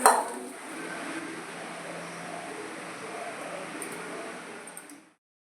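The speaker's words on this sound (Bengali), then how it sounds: "এবার আমি চলে এলাম ভাত খাওয়া এঁঠো বাসনগুলো ধুতে" Used dishes being washed after a rice meal in a home kitchen: a steady wash of running water with a sharp clink of utensils at the start and faint scattered clatter throughout, no talk.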